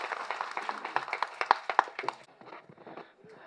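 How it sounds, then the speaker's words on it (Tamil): Scattered audience clapping at a Tamil movie audio launch event, a quiet patter of hands that thins out and fades after a couple of seconds. "கைத்தட்டல் சார்."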